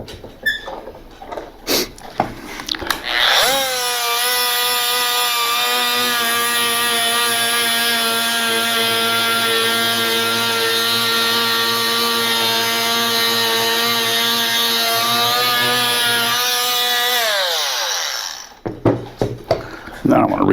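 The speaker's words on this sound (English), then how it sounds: "I don't know if you ever used a Dremel before, but these are pretty neat tools." Dremel rotary tool cutting plexiglass for an RV screen door: a loud, high-pitched motor whine that spins up, holds steady with a grinding edge for about fourteen seconds, then winds down, bracketed by handling clicks.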